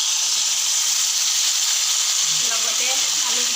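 Jackfruit pieces added to a hot new kadai with meat for a homestyle Assamese curry, giving a steady loud sizzling hiss throughout, with faint clatter near the end.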